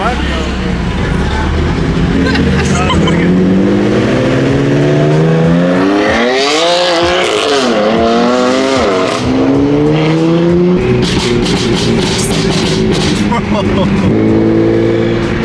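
A BMW M3 F80 launches hard on the street, its engine revving loud and rising while the tires squeal and the car pulls away, with people talking over the noise.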